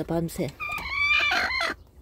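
Brooding hens sitting on newly hatched chicks in a coop give a burst of close, rising clucks and calls, with a person talking over them.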